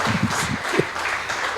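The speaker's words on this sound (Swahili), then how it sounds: "Tupigie mama makofi mazuri." A congregation at a church gathering gives a woman a round of applause, steady moderate clapping from a group with voices mixed in underneath.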